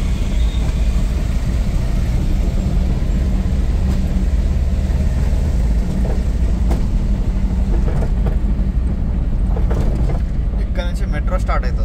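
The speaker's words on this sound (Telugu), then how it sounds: "మెట్రో స్టార్ట్ అవుతుంది." A metro train on the LB Nagar to Airport line in Hyderabad pulls away and runs along with a continuous low rumble and rolling rail noise, and faint clicks build toward the end.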